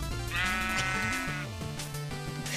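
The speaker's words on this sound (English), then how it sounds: "Look, it's a fluffy sheep." A fluffy video-game sheep bleats in a long, wavering call that carries over steady game music, loud and close, with a shorter second bleat near the end and no talk.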